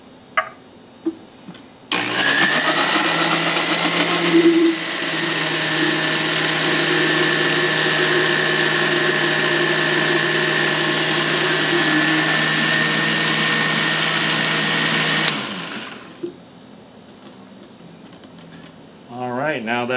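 Blender processing an olive oil marinade for tri-tip, switching on with a jolt and whirring loudly and steadily for roughly thirteen seconds before winding down, with faint clatter at either end.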